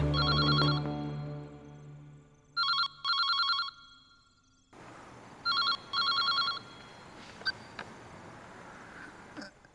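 An electronic telephone ring sounds in two short double bursts, separated by quiet, then again over background noise with occasional clicks.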